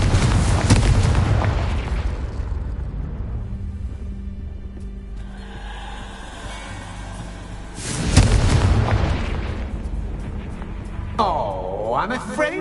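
Confringo fire-blast spells in the video game Hogwarts Legacy burst as loud, booming explosions at the start and again midway, trailing off into rumbling decay, with a voice also present.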